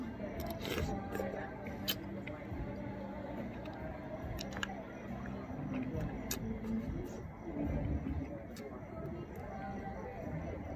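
Someone eats chicken feet, with soft slurping, sucking and squishy biting noises close to the mic alongside faint clicks, under a steady layer of background voices and room noise.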